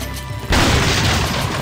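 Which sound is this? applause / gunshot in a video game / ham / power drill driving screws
gunshot in a video game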